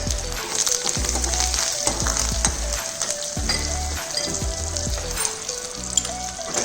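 Curry leaves, mustard seeds, hing and red chilies tempering in hot oil give a loud, continuous crackling sizzle with dense popping, close up and without talk.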